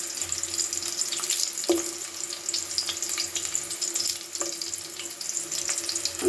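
Chillies, onion and dried red chillies deep frying in hot oil, a steady hiss and crackle close by with a few sharper pops, no voices.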